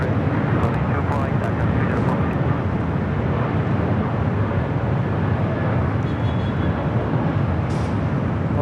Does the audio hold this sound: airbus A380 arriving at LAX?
yes